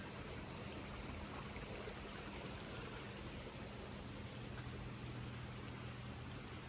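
Blackburn Run, a creek flowing below a trail, gives a faint, steady, distant rush of water with no voices or other sounds over it.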